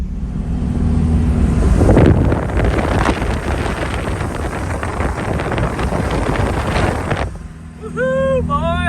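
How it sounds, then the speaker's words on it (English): A stock-geared 1986 Toyota pickup with a 22RE engine on 38-inch tires, in low range, climbs a hill with a loud sustained engine roar and heavy wind buffeting on the microphone, then cuts off sharply near the end before brief high chirps. "We're gonna see how this stock geared truck with a 22 RE spins 38s up a hill."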